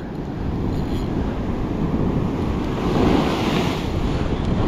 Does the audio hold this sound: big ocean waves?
yes